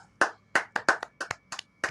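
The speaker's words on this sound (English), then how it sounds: "I want everybody to give a giant clap" Sharp, close hand claps in an uneven rhythm, about nine distinct strikes over two seconds with brief gaps between them, coming from the audience of the In The Building sports talk show.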